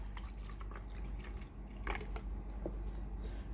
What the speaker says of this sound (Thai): ให้เทน้ำ เข้าไปในส่วนของตัวช่องฟิลเตอร์เลยนะครับ